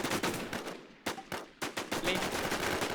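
Rapid bursts of automatic gunfire in the video game Warz ring out loud and close, rattling almost continuously with a couple of brief gaps between volleys.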